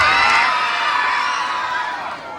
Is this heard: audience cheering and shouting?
yes